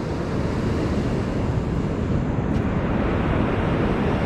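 Waves washing onto a beach at Pennington, South Africa, a constant loud broadband roar of surf mixed with wind buffeting the microphone, with no voices.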